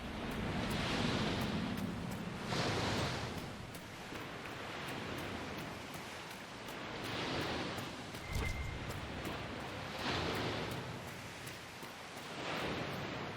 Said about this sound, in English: These waves be rough out here